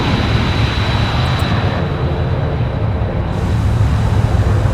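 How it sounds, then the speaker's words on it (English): Darter quadcopter drone hovering in the military sim game Arma 3, a steady loud broadband engine whir with no breaks and no voices. "There we are. We got a live drone."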